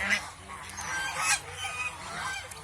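Several domestic geese honk in a short burst of nasal calls, fairly close, over a low steady background.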